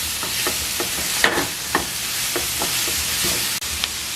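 Nacho mixture stirred in a pan over low heat, with repeated scraping taps every half second or so against a steady sizzle.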